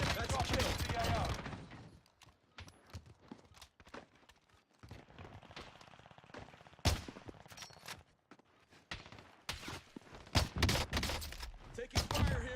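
Gunfire in a tactical shooter video game comes in sharp, loud bursts and single shots, scattered unevenly between quieter gaps.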